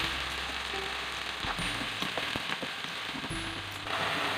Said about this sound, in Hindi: कीमा फ्राई हो रहा है, इसका कलर चेंज हो गया।